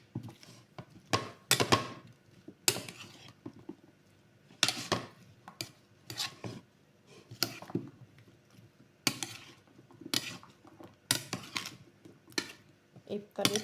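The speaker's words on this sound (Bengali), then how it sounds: "এবার আমি উল্টো পাল্টে মাখিয়ে দিচ্ছি।" Fruit salad of cucumber, banana, apple, tomato and papaya tossed with black salt in a bowl, bursts of clattering and clinking come in irregular rapid clusters, loud and close throughout.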